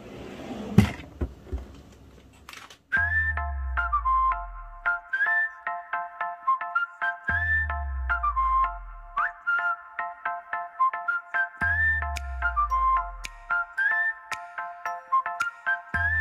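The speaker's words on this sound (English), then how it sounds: "Sorry, my phone rang." A mobile phone ringtone plays a repeating electronic melody with several cycles, loud and close, without talk, after a short burst of handling noise at the start.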